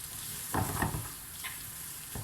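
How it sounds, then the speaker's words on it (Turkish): Ground black pepper, cumin and paste being stirred together for içli köfte filling, a few soft scraping strokes and faint crackle over a quiet hiss, brief and close, no talking. "Şimdi bunları da güzelce karıştıracağım."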